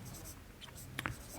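A pen scratching on paper as a class 10 maths problem on a cone and hemisphere is worked out, with soft, close, irregular strokes and a couple of brief taps against low room noise.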